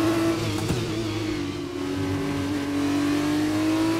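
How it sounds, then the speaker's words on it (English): An F1 2021 race car engine in a video game holds a high, steady whine with slow pitch shifts, loud and continuous, with a single brief crack of backfire early on. "You can hear the backfire of it."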